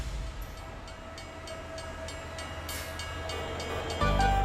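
A Rajshahi-bound train rumbles steadily at a fairly low level, with a brief louder surge near the end and no talking.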